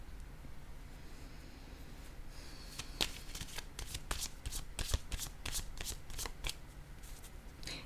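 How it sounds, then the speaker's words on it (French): Tarot-style cards shuffled and drawn for a reading: a steady series of crisp, close riffling and snapping card sounds over a faint hiss, without talking. "Je vais piger une autre carte."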